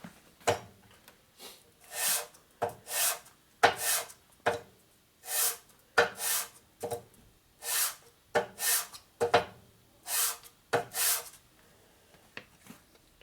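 Rhythmic rasping strokes of a file on distributor contact points during a rebuild of a 1949 Harley-Davidson 74ci FL panhead, about a dozen short close swipes with brief pauses between them.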